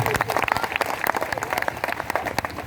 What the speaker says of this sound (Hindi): दिल की गहराइयों से एक बार जोरदार तालियां हो जाए सबको